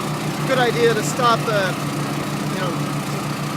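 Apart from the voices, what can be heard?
Orec tracked flail mower engine running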